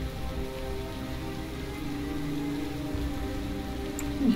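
Continuous Minecraft rain patters without a break, a uniform wash of falling drops at steady volume from start to finish, with no voices.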